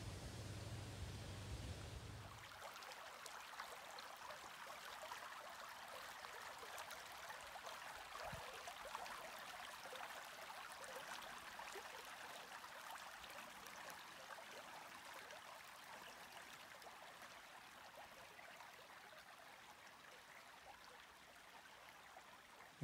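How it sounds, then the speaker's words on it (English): A creek swollen after heavy rain flows steadily, a continuous broadband rush of water heard close and evenly throughout with no voices. "I can tell that water is actually flowing"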